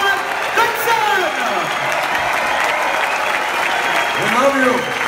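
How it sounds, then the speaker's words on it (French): Warm, sustained applause from a Q&A audience welcoming a film team, loud and continuous throughout, with voices calling out over the clapping. "je vous demande d'applaudir chaleureusement l'équipe de Jean-Claude Van Damme"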